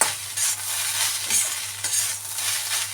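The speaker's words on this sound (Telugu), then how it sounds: "ఇప్పుడు బాగా కలుపుకోవాలి." Egg fried rice gets stirred in a hot pan after vinegar and sugar go in, with rhythmic scraping strokes over a constant close sizzle and no talking.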